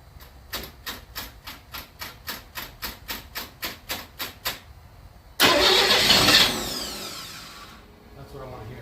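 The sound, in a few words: 1961 Chevy Bel Air engine starting with new starter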